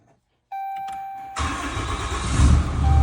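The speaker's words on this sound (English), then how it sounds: "So when you start your truck," A Ram pickup truck starts up: a steady electronic chime, then the starter cranks and the engine catches into a loud, steady idle that builds slightly.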